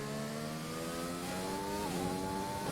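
A Formula 1 race car engine in F1 2020 at the Great Britain circuit screams under throttle, pitch climbing steadily, dropping briefly at an upshift, then rising again, loud and continuous.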